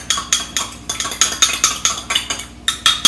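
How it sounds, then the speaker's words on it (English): Utensil stirring a batter of eggs and liquids in a bowl, a brisk even run of about fifteen loud scraping clinks close by, with a brief pause near the end. "Now we stir it up."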